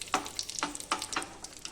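Mustard seeds, curry leaves and dried red chillies sizzle and crackle in hot oil as a tempering is prepared for kadhi, with bursts of popping and stirring close by.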